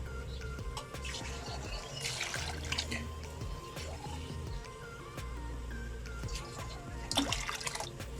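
Water poured into a cooking pan for daal with garlic paste: a steady liquid splash and trickle with drips, close and moderately loud, no talk.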